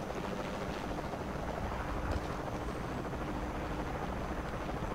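A helicopter hovers in the video game Shadow of the Tomb Raider, its steady rotor drone filling the scene as a dense, continuous rumble with no voices over it.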